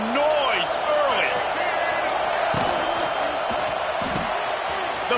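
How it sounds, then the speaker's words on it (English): A college football stadium crowd roars loudly and continuously during a game against UGA, with sharp thuds and shouts rising over the din and a commentator's voice riding on top. "This crowd bringing the energy and noise early."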